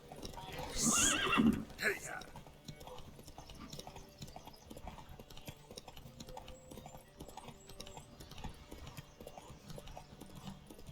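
In The Witcher 3: Wild Hunt, a loud horse whinny rings out near the start during a horse race, then hoofbeats clatter in a quick, steady rhythm while a voice talks faintly underneath.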